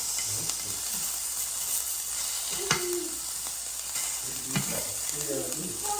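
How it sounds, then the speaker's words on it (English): Sausage sizzles in a hot pan, a steady broadband hiss with occasional pops and faint scraping. A voice and other speech are heard briefly over it. "Daddy, I put sausage in here, Dad. That sausage is in the pan."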